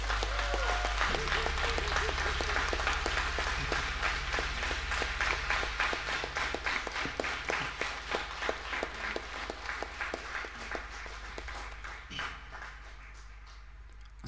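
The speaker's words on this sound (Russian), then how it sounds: "друзья, аплодисменты." Concert audience applause after a full live performance, sustained dense clapping with individual claps standing out, gradually thinning out toward the end.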